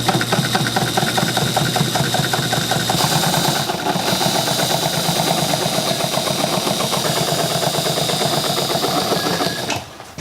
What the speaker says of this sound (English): I gotta sew this extension onto the bottom of it.